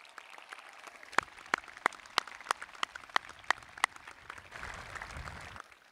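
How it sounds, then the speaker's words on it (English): High school graduation audience applauding the band and chorus, a faint sparse clapping with a few sharp individual claps standing out, swelling into a softer wash of applause near the end. "how about a big round of applause for our band and"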